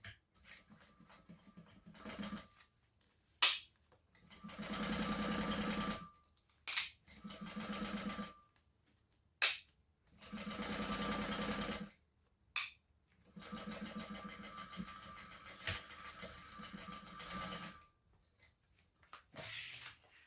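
Domestic sewing machine set to stitch length 2 stitches the side and top of a crossbody bag, running in several sustained bursts with short pauses and clicks between runs, close and steady with no talk.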